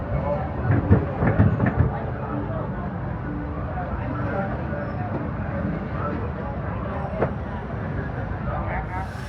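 The Disneyland Railroad train rumbles steadily along its track at Tomorrowland station, a low continuous roar with faint clatter, while voices murmur throughout.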